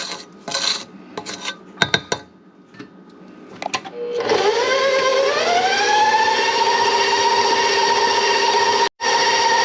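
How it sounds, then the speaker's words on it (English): Electric mixer whirring steadily as it beats lemon pound cake batter, a loud sustained motor tone rising in pitch as it settles, after a few scraping clatters; it cuts out briefly near the end. "we're going to beat this until nice and fluffy"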